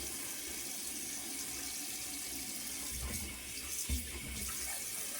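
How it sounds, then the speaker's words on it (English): Tap water runs steadily into a pan, a continuous close splashing stream with a brief clunk near the end. "I'm also going to fill up my pan here"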